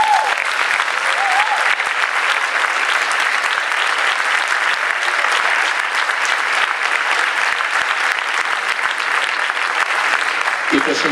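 Steady, dense audience applause at a public event in Canet de Mar, loud and continuous throughout without a break.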